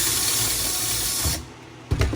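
Power drill boring into metal while mounting a larger spare tire on a Toyota Tacoma, a loud steady whine that runs continuously, cuts off abruptly, then a short burst of drilling resumes near the end.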